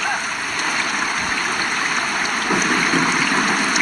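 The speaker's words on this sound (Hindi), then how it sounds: "आखिरकार बारिश होने लगती है, जिसका सभी को इंतजार था।" Heavy monsoon rain pouring down over a city in the Thar desert region, a steady loud rushing wash of water that holds throughout with no break.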